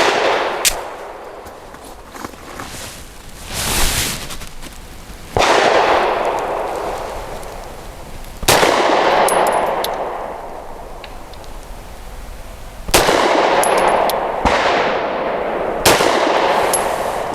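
A Grand Power P1 Ultra pistol fires Norma 108 grain monolithic hollow points outdoors: a series of loud, sharp, punchy shots at irregular intervals, each followed by a ringing echo, with no talking.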